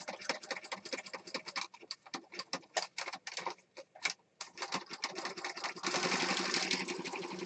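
A sewing machine stitches fabric up close in a mixed-media craft session, giving fast, uneven runs of rattling clicks with a brief pause and then a steadier, denser whir toward the end.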